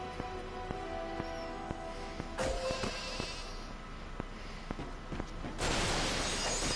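Goat bleats ring out from the Goatnator weapon in the Ratchet and Clank video game, mixed with blasts and game sound effects, with a loud burst near the end.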